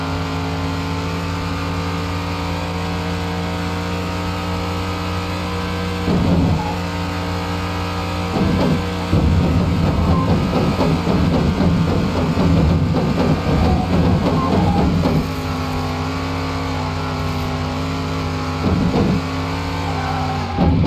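A car engine drones and revs unevenly during a restoration test drive, a loud sustained motor hum that surges and strains in bursts, rising roughly in the middle before settling back to a steady idle-like tone.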